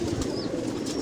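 A Rampuri pigeon gives a low, throaty coo, close and steady, with a brief faint chirp above it.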